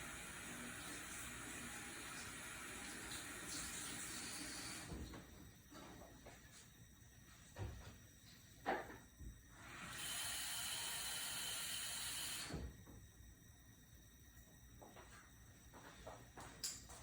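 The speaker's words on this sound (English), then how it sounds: "So you could run that occlusion rim under water, put it in a bowl of cold water or room temperature water" Running tap water pours over a dental wax occlusion rim on a baseplate in a dental lab, a steady broadband rush in two bursts, a long one at the start and a shorter one later, with quiet handling clicks between.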